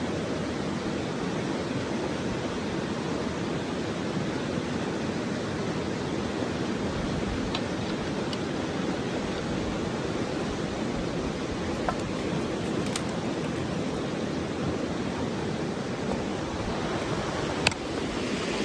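Creek water runs over rocks beside a small rock beach at a bend near the Cascadia trailhead, a loud, steady, broadband rushing that stays even throughout with a few faint clicks and no voices.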